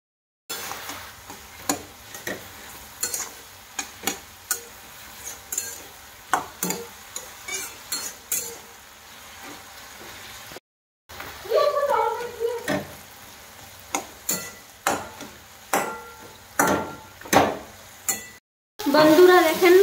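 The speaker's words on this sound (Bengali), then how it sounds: "বন্ধুরা দেখেন পোল্লা শাক ভাজা হয়ে গেছে" Polla saag greens cooking in a pan with their own released water and turmeric, Bengali style: a soft continuous sizzle broken by repeated sharp ticks and scrapes of stirring, with two brief silent gaps and a louder burst of frying at the end.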